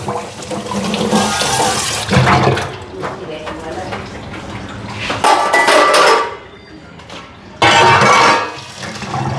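Tap water gushes into a milk saucepan in a home kitchen sink, running loud in several bursts with pauses while the pan clanks, and people talk throughout.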